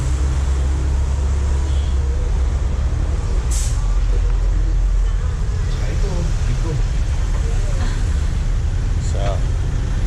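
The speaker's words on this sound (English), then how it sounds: "So, we let the other bus go by." A bus passes on a busy street in the Philippines amid loud, constant traffic roar, with a sharp hiss like an air brake near the start and someone talking over the noise.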